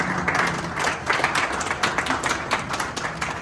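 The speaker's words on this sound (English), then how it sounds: "you'd want to do one more big round of applause for him" A crowd at Appiah Stadium in Kumasi applauds, dense continuous clapping that sounds broad and sustained, with no talk standing out over it.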